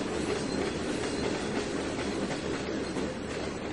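Train of rail box cars running on track in the Trainz 2019 railroad game, a steady continuous rumble with rail clatter throughout, loud and close, no talking.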